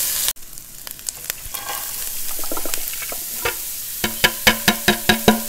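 Finely chopped garlic and ginger fry in a pan, a hissing sizzle broken by sharp utensil scrapes and clicks, ending in a quick run of evenly spaced taps against the pan.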